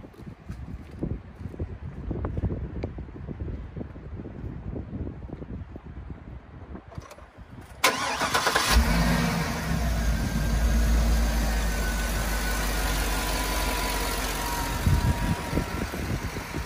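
A 2004 Hummer H2 engine cranks and fires midway, settling into a loud, steady close-range idle that runs to the end, with wind noise and handling sounds before the start.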